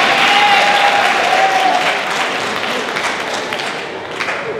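A school audience applauds, a dense wash of many hands clapping at once, loud and sustained before slowly tapering off.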